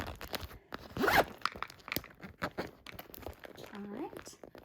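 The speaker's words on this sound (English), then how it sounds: "See if we can zip this up." A packing bag for a summer trip is zipped up in one quick, raspy close pull near one second, followed by rustling and crinkling of packed items, close and fairly quiet.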